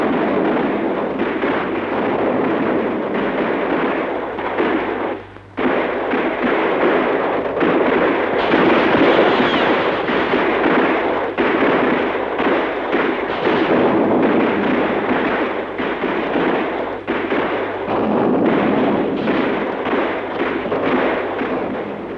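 Sustained, loud barrage of rapid gunfire, depicting the Jallianwala Bagh massacre in Amritsar, bursts overlapping almost without pause, with one brief lull partway through.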